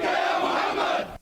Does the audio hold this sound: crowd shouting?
yes